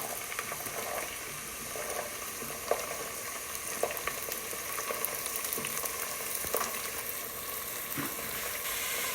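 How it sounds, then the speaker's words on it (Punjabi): Onions sizzling steadily in hot oil with garlic and ginger for a pumpkin sabzi, a dense continuous frying hiss with occasional sharp crackles and stirring clicks, close and alone with no talk. "ਹੁਣ ਆਪਾਂ ਪਿਆਜ਼ ਵਿੱਚ ਪਾ ਪਾਤੇ ਹੁਣ ਆਪਾਂ ਇਹਨਾਂ ਨੂੰ ਬਰਾਊਨ ਕਰ ਲਾਂਗੇ"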